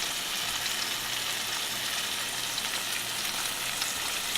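A pan sizzles softly and evenly as seasoning is stirred in, a steady frying hiss at moderate level with no distinct stirring strokes and no talk.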